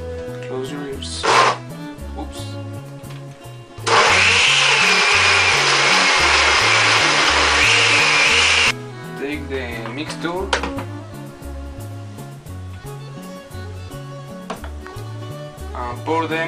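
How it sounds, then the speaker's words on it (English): A blender whirs loudly for about five seconds, liquefying vegetables with a little water, a dense high-pitched roar over background music, with a brief short burst earlier. "put them in the blender and liquefy them"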